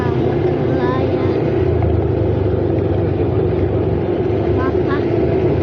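A Triumph motorcycle engine hums steadily while riding uphill, a close, loud, continuous drone mixed with wind noise and a few faint voices.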